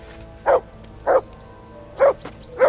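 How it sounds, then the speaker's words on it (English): Dog in the game Kingdom Come Deliverance 2 barks four times in loud, evenly spaced single woofs over a quiet background with faint tones. "That barking was a pain in the ass."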